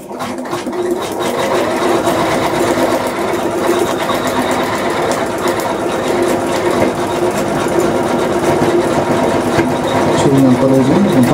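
450e sewing machine stitching continuously at a steady, loud, even hum with rapid needle chatter, close up, running without a break for the whole stretch.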